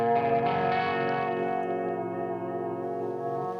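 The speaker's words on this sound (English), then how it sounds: "So in mono, you get a kind of a wobble effect, which is kind of nice for eerie, textural stuff." Electric guitar run through an effects pedal in mono, a sustained chord with a slow, subtle wobbling modulation and distorted, echoing tone, steady and fairly loud with no voices.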